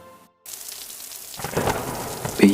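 Steady heavy rain with rumbling thunder, used as a sound effect in a dramatic narrated story, starts after a brief silence and swells louder, with no voices.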